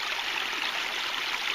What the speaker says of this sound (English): The creek doesn't go very far.